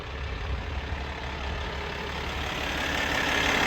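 A 2012 Peterbilt 388 triaxle heavy haul daycab truck idles close by with a deep, steady diesel rumble that swells slightly louder toward the end, with no voices.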